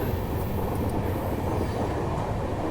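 A train rumbles past close by, a dense, steady roar of wheels and carriages with a faint high squeal on top.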